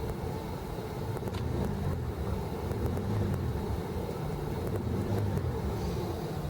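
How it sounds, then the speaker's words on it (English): A 2001 Ford Explorer engine runs close by with a steady, dense rumble and some wind buffeting. There are no obvious sharp rev swells, and no one speaks. "But give it a few revs for you guys."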